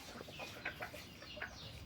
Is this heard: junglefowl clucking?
yes